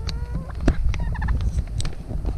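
Several birds cluck and gobble in short overlapping calls, close by, with a steady low rumble underneath.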